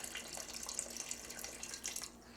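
Kentucky bourbon is poured into a pot of pork burgoo stew, a soft, close trickle of liquid splashing for a couple of seconds at low volume with no voices.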